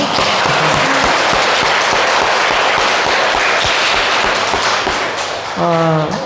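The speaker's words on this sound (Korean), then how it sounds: "우리 다 같이 서로에게 감사하다고 또 하나님께 영광의 박수 한번 드리겠습니다." A church congregation claps together in a dense, sustained round of applause during an afternoon praise service, steady for several seconds, with a voice briefly rising near the end.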